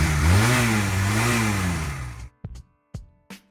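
A Honda Rebel 250 motorcycle engine, freshly running after a carburetor cleaning, revs up and down loudly for about two seconds, then gives three short, sharp throttle blips separated by brief silences.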